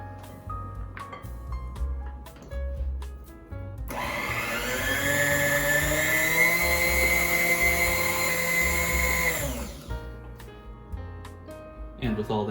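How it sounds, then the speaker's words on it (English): An electric hand mixer beating Oreo cheesecake filling runs as a steady loud whir for several seconds, starting abruptly and cutting off, with quieter kitchen sounds before and after. "At this point, I start to run the mixer a bit slower."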